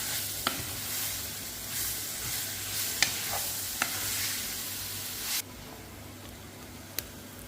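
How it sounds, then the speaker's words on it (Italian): Onion frying in a pan for an Italian stuffed-pepper dish gives a steady close sizzle, broken by a few sharp clicks and stirring scrapes, the hiss easing slightly near the end; no one speaks. "A parte faccio soffriggere la cipolla"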